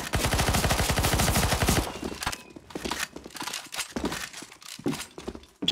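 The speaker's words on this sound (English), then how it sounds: "Shoot the zombies." Dense, rapid automatic gunfire in CS:GO Zombie Escape, fired at zombies on the Lord of the Rings Minas Tirith map, rattles loudly for about two seconds, then breaks into scattered bursts and single shots mixed with game noise.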